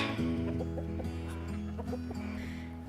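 Chickens clucking close by in a steady run of short, overlapping clucks and low murmuring calls, with no talk over them.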